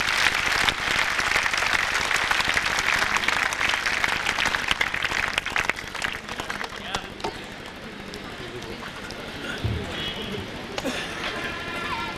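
Applause at a Mahamoorkh Sammelan comedy gathering fills the space, a dense sustained clapping from a large audience that gradually thins and fades, with voices audible beneath it.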